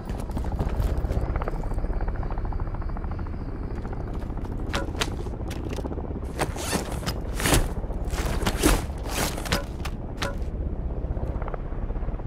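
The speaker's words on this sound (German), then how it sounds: "Der Kampfheli greift mich an!" In Modern Warfare III, an armored attack helicopter's rotor thrum drones steadily throughout, joined midway by bursts of sharp rapid gunfire.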